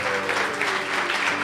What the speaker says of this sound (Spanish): ¿Alguien le puede dar un fuerte aplauso al Señor?